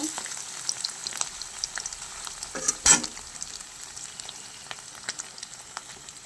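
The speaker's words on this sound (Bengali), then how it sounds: "এপিট ওপিট করে লাল লাল করে ভেজে নিব।" Paneer pieces frying in oil and being flipped to brown on both sides, a soft steady sizzle with scattered pops and a sharper clatter of turning near the middle, close but fairly quiet.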